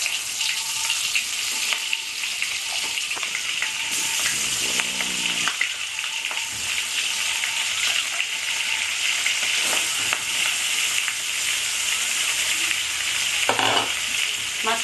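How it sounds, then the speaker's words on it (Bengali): Turmeric-marinated prawns fry in a karahi with a steady, dense sizzle and crackle, punctuated by occasional stirring scrapes and spattering bursts throughout, close by with no voices. "মাছগুলো মাখা হয়ে গেছে, এবার আমি কড়াই দিয়ে ভাজবো।"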